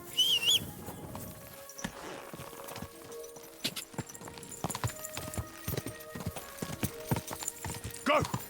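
Horse hooves clip-clop steadily in Kingdom Come: Deliverance II, a run of close, regular hoofbeats on ground, with a brief whinny at the start and another near the end.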